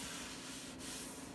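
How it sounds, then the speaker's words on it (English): A piece of old barn wood is sanded by hand with fine-grit sandpaper, giving a steady, continuous close-up rasping rub with no pauses and no voices. "I'm gonna do a little sanding on it"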